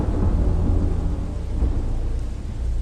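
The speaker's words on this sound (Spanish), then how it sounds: "La tormenta era abundante y ruidosa, y su conmoción y asombro aumentaban con cada trueno." A thunderstorm rumbles with deep, rolling thunder over a steady wash of heavy rain, loud and continuous throughout with no voices.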